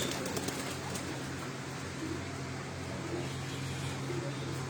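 Racing pigeons on a rooftop at Chak Beli Road, Rawat, with soft cooing and faint wing movement under steady background noise.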